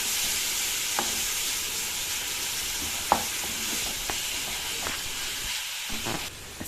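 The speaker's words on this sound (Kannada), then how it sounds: "ಇದೆಲ್ಲ ಹಾಕಿಬಿಟ್ಟು ಟೊಮೆಟೊ ಸಾಫ್ಟ್ ಆಗೋವರೆಗೂ ಫ್ರೈ ಮಾಡಿ ಅದನ್ನು" Tomatoes softening in a hot pan for temple-style rasam give a continuous low sizzle, with a few sharp utensil taps and stirring clicks over it, no speech.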